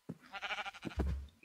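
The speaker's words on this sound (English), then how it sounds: "and I've got a sheep trapped" A single sheep bleats in the Minecraft video game, a wavering, nasal call lasting just over a second, close and clear with a low thump near its end.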